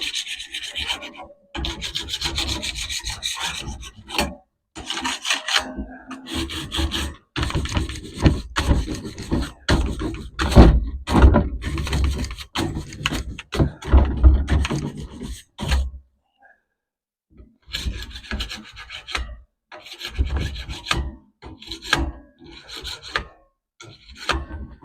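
A grill brush scrapes the grate of a drum smoker in bursts of harsh, rasping strokes, sometimes rapid and sometimes broken by short pauses, close up, with someone talking at times.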